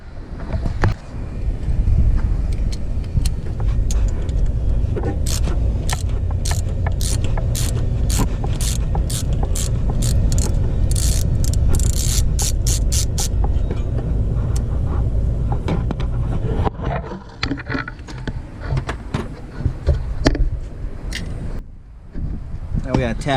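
Ratchet wrench loosening the two 13mm bolts on a Jeep Comanche thermostat housing, a run of sharp rapid clicks with metallic knocks over steady background hum, fairly close and loud.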